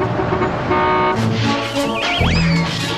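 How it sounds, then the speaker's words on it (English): Busy road traffic with several car horns honking and tooting over engine rumble, loud and close, overlapping in a noisy jumble. "And traffic can be very noisy"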